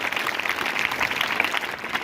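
Audience clapping in a school hall during a motivational talk: a steady, dense patter of many hands held at an even level through the whole stretch, fairly close, with no voices over it.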